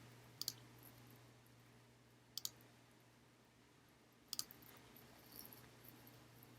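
A computer mouse clicks three times, each a quick double tick, spaced about two seconds apart, with faint low hum and quiet room noise between the clicks.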